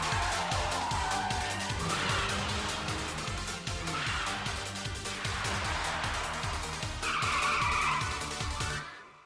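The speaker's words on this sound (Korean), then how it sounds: "마코와 사유키는 86에게 뒤처질까봐 그만 감속 타이밍을 놓쳐 차가 돌아버리고" Cars in an Initial D anime mountain-pass race skid and spin out: loud, continuous tire squeal over a rumbling, revving engine, swelling and easing in waves before cutting off abruptly at the end.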